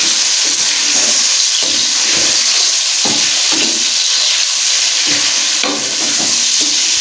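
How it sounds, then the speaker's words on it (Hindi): Garlic and ginger paste frying in a pan with chicken and onions for kabuli pulao: a loud, continuous sizzle broken by regular stirring scrapes, heard up close without any voices. "इस स्टेज पे आके इसको भी तकरीबन हाफ मिनट के लिए हमें बीच में भूनना है।"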